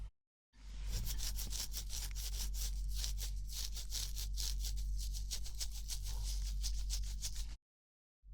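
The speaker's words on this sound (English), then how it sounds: "Beard scratching ASMR." Beard being scratched close to the microphone for ASMR, a steady dense run of fine raspy rubbing strokes that goes on for about seven seconds with no voice over it.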